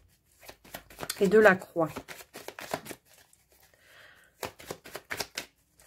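A tarot card is laid down on top of another card during a reading: a few soft, papery taps and slaps, mostly late, between stretches of French speech.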